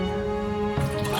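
Remaining water poured into a saucepan to dissolve cornstarch, a short liquid trickle and splash that changes pitch partway through, close and alone.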